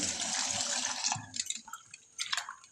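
Water splashes and runs over boiled raw banana peels being rinsed in a kitchen, a steady broad wash for the first second, then scattered drips and small splashes, close and fairly quiet.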